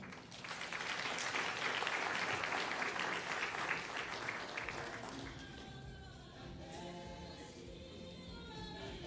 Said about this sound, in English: May we give a round of applause as he comes to the fore.